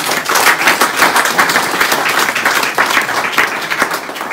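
A church congregation applauds during a French-language sermon, a loud, dense wash of many hands clapping steadily with no pauses, filling the whole space without any talk over it.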